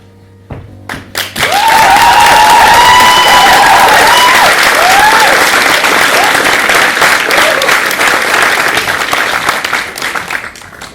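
A crowd breaks into loud applause and cheering after a brief pause, dense clapping with raised voices and whoops sustained close and full for several seconds before easing slightly near the end.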